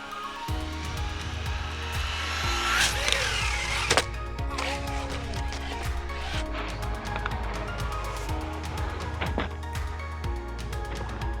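Traxxas Slash 4x4 RC truck with a center differential, accelerating on throttle outdoors, giving a quiet electric whine with scattered clatter and bumps over about eleven seconds.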